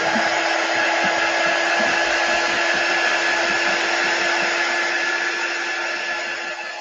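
A hair dryer blows steadily and loudly on a chalk transfer craft project, an upcycled dollar-store piece, with a constant whirring hum that tapers slightly at the end and no talk.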